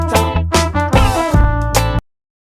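A dry dub reggae mix with no effects: drums, bass, guitar, trumpet and vocal play together in a short, loud, choppy phrase that stops abruptly.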